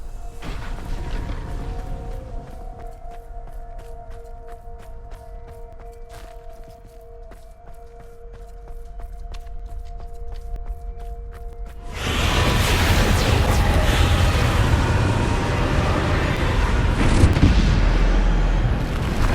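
Bombarda blast spell in Hogwarts Legacy: quiet ambience with a few soft ticks and a faint tone, then an abrupt loud burst of broadband rumble that carries on as a sustained roar.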